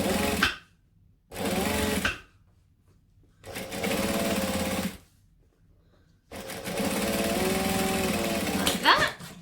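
A sewing machine runs in four bursts while stitching along the folded edge of a strap. It gives a steady mechanical whirr that starts and stops with short pauses between, and the last run is the longest.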